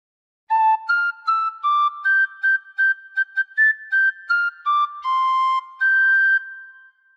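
Tin whistle plays the Jingle Bells melody alone, a bright, clear, breathy tone in short separated notes with a few longer held ones, close and steady.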